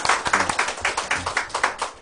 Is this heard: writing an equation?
no